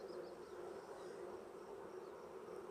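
Honey bees swarm and buzz steadily at an opened hive during a colony upsize, a dense, continuous near hum with no voices.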